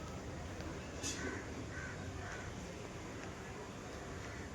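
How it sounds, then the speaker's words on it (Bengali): Crows caw outdoors at dawn under a cloudy sky, a few faint, distant calls over steady background hiss. "চারিদিকে পাখির আওয়াজ হচ্ছে।"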